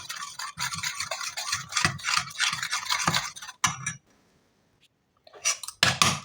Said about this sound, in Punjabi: ਆਪਾਂ ਚੰਗੀ ਤਰ੍ਹਾਂ ਮਿਕਸ ਕਰਨਾ ਜਿਹਦੇ ਨਾਲ ਆਪਣੀ ਕੋਈ ਗੰਢ ਨਾ ਰਹਿ ਜਾਵੇ